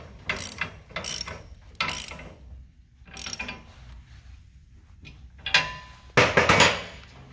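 The rocker arm of a PullRite SuperGlide trailer hitch rocks side to side. Close metallic clunks and creaks come in an uneven series of knocks, with a louder cluster of clanks near the end.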